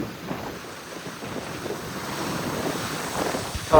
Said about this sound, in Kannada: ನೀರು ನೋಡ್ರಿ ಎಲ್ಲ ಹೆಂಗ್ ಬರ್ತೈತಿ. ನಿಂತ್ಕೊಳಕ್ಕೆ ಆಗ್ತಿಲ್ಲ, ಗಾಳಿ ತೇಲ್ತೈತೆ.